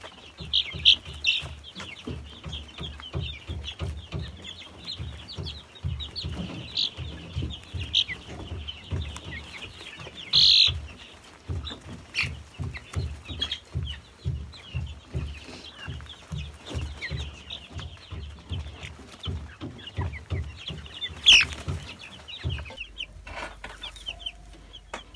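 Young chickens cluck and peep inside a poorly ventilated farm shed, a rhythmic run of soft, close clucks with occasional louder squawks over a quiet background.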